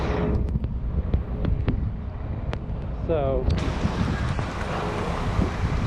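Gusty storm wind roars steadily against the microphone on a Brooklyn street in Park Slope, low and buffeting, with a brief voice over it.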